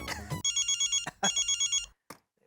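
A telephone rings in repeated electronic trills, two bursts of rapid pulsing tones, with brief noises before and after.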